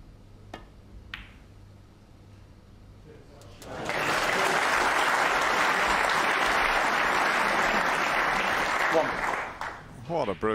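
After a few quiet seconds with faint clicks, a snooker audience at the 2009 World Championship breaks into loud, sustained applause for a shot, fading out with scattered final claps.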